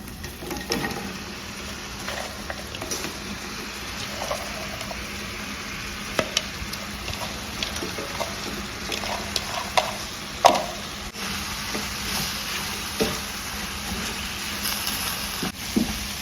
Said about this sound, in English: You really need to mix it and allow every part of the coconut to cover with the syrup, the sugar syrup that you made.